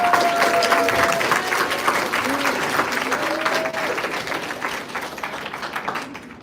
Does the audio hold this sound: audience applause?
yes